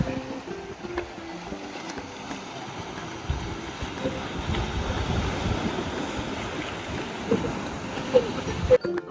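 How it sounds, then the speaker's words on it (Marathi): Sea waves surge and break against the stone ramparts of Sindhudurg sea fort on the Maharashtra coast, a continuous washing roar with wind that swells louder in the second half, with faint voices mixed in. "ह्या लाटा पहा काय जोरात येत आहेत आणि ह्या तटबंदीला येऊन ढासळत आहेत"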